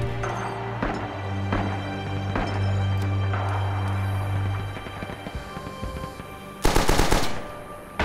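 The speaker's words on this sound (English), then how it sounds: "now they're shooting at me" Gunfire in a Rising Storm match set on Iwo Jima, with light machine guns and rifles: rapid automatic bursts and single sharp shots in irregular clusters, some distant, plus a loud close burst near the end.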